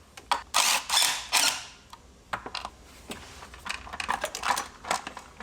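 Quick bursts of clicking from a ratchet loosening 10mm bolts on a Cadillac ATS-V engine bay during a turbo swap, several short close runs separated by brief pauses.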